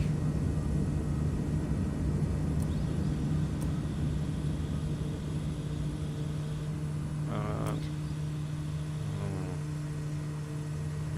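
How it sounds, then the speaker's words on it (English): Steady droning airliner engine in a flight simulator during a heavy, overweight takeoff, a constant rumbling hum with a few faint clicks and short tonal blips layered over it. "Very, very dodgy overweight takeoff."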